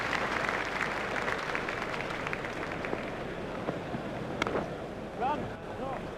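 A cricket crowd at Lord's applauding Badani's fifty in an England v India one-day match, a broad steady wash of clapping and cheering with a commentator's voice over it.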